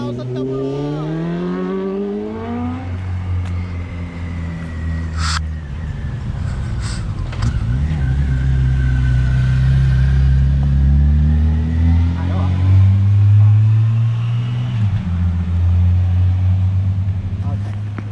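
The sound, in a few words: road traffic of trucks, cars and motorbikes passing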